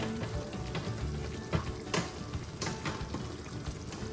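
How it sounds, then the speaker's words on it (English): Broccoli and pasta boil in pots on the stove, giving a steady bubbling, hissing wash with soft pops and a few brief clatters. "the broccoli is boiling, and so is the pasta"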